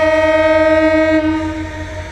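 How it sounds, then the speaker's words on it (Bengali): A large train at a station, bound for Joydebpur, sounds a loud, sustained, steady horn tone that holds for about two seconds and then fades slightly as it slowly pulls away. "আমরা দেখতে পাচ্ছি যে আস্তে আস্তে ট্রেনটি ছেড়ে যাচ্ছে"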